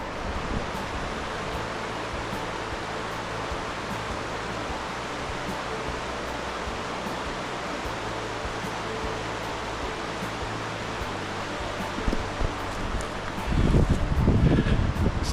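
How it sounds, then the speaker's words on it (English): Running water of the River Hoder on the Tolkien Trail, a steady broadband rushing flow close by, with brief rustling or footsteps near the end. "It's nice, the sound of that running water."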